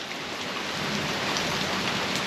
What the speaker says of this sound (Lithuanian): girdžiu lietų nejaugi.